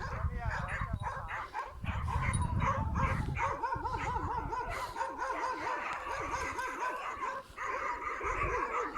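Village dogs bark and puppies yip and whine in a busy, overlapping jumble nearby, with voices talking in Turkish through much of it.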